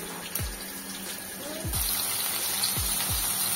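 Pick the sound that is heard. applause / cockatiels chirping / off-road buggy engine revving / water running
water running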